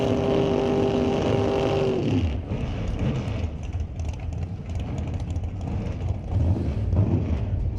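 Drag race cars launching at a racetrack, a 1966 fastback Mustang and a second-generation Camaro, their loud engines roaring at close range with a steady rumble that rises again toward the end.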